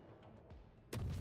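Warship main gun firing in the naval video game World of Warships, a single sudden booming blast that breaks in after faint low rumbles and lingers with a heavy sustained roar.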